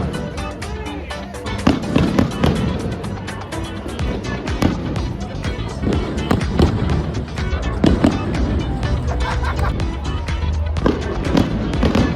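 Fireworks at a Cambridge May Week ball crackle and boom continuously, with dense sharp bursts and pops layered over a steady roar of festive noise.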